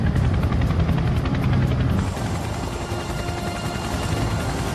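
Rotor thump and engine roar of a British Royal Air Force Chinook helicopter in flight, loud and continuous, with a rhythmic beating that stays steady before easing slightly partway through.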